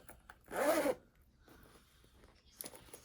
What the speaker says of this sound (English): I'm just going to go ahead and push this part of the zipper up a little bit more.